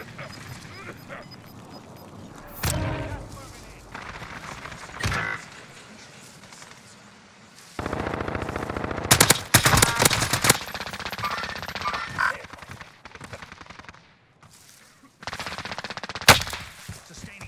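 An OTS-9 submachine gun in Warzone Rebirth Island fires in several rapid, sustained bursts, loud and close, separated by quieter stretches of game ambience.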